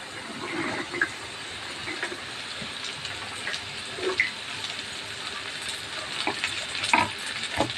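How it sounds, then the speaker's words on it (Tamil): Steady sizzling of chopped okra frying in a pan for vendakkai poriyal, with occasional stirring scrapes and small pops, close and continuous. "கட் பண்ணி வச்ச வெண்டைக்காவை போட்டுடலாம்."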